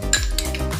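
A spoon scrapes briefly against a pan while garlic is stirred in with browned onion for paneer butter masala, a short clatter over steady background music.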